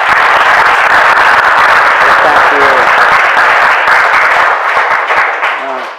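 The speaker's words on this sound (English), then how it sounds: "So, hand of applause" Sustained audience applause fills the hall after a memorial lecture, a dense wash of many hands clapping at steady volume before fading slightly near the end, with a few faint voices underneath.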